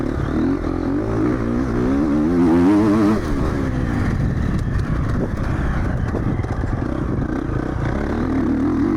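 Triumph 250 cross-country motorcycle ridden on a motocross circuit, its engine revving and rising in pitch near the start, then a steady loud drone with clattering and wind noise throughout.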